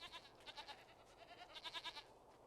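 Goats bleat in the Jade Empire video game, a few wavering, nasal calls in two bursts, one near the start and one toward the end, faint and quiet with no talk over them.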